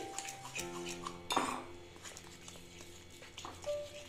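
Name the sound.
whisking semolina and egg batter with Eno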